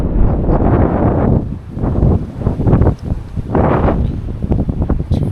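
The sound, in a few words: wind blowing outdoors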